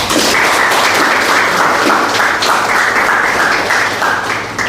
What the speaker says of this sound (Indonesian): silakan tepuk tangan Sulis